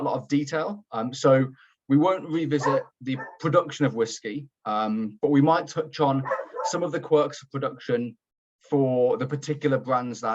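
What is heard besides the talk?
dog barking in the background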